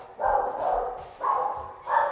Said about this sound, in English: Is that Cash? Yeah, that's my dog.